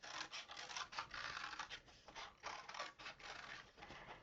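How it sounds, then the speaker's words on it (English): Scissors snipping a paper circle, a quick run of close, crisp cutting strokes in an irregular rhythm, quiet and alone. "Now I'm just going to take my scissors. I'm going to cut out that circle."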